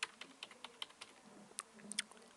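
Steady light typing on a computer keyboard, a quick irregular patter of soft key clicks heard close and quiet with no talking.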